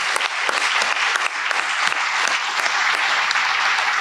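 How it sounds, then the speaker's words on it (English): Loud, dense audience applause at a book event with an author, continuous clapping filling the room with sharp individual claps standing out. "Big round of applause for all those great entities,"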